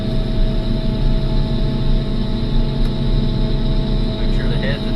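A forage harvester chopping silage runs with its head engaged, a loud, steady heavy engine drone with constant low rumble and mechanical whine throughout, holding high and continuous.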